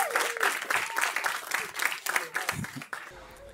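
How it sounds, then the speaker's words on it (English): Wedding guests break into a burst of applause, dense steady clapping that fills the room for a few seconds before tapering off, with a voice briefly heard within it. "I think that deserves a bit of applause."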